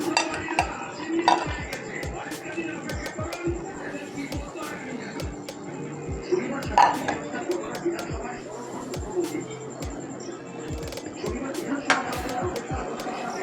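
Sago stirred into a pot of milk with a metal spoon for sabudana kheer: a steady run of light clinks and scrapes against the pot, with birds cooing faintly in the background.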